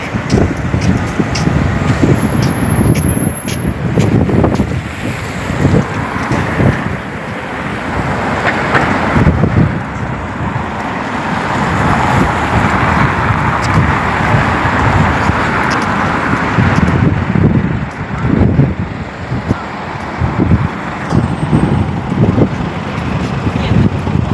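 Steady cold wind in Russia rushes and buffets across the microphone for the whole stretch, a broad rumbling roar with occasional gusty peaks and no voices.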